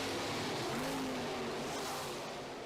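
A lightweight dirt late model race car, about 2,200 pounds, roars with a loud, continuous engine drone that holds steady and fades slightly toward the end, with faint tire noise beneath.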